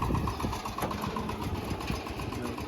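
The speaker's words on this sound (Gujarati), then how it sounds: "ટ્રેક્ટર આવે છે ખેતરમાં." A tractor engine runs in a farm field, a faint, steady low idle throbbing in the distance.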